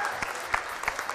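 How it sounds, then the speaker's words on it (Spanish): A game-show studio audience applauding on El Precio Justo, a short burst of crisp, rhythmic clapping with a few sharper claps standing out, close and lively. "¡Fuerte el aplauso para el padre de Noé!"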